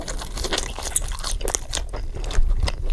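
Close, crisp crunching and chewing of In-N-Out Cajun fries dipped in spread, with irregular bites and wet mouth sounds repeating steadily throughout.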